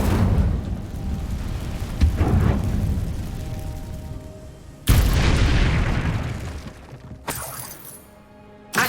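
Incendio fire spell cast in Hogwarts Legacy, loud crackling blasts of flame and shattering bursts that surge and fade in several waves, close and alone without talk.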